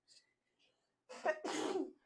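A person sneezes once, nearby and alone: a short intake followed by a sharp two-part burst after a near-silent pause.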